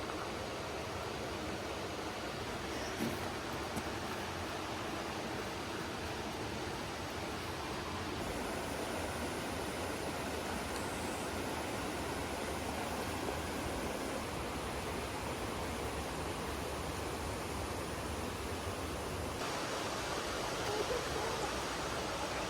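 River water rushes in a steady, broadband wash as hikers ford a river on the Appalachian Trail, a constant near flow with no distinct splashes and no voices.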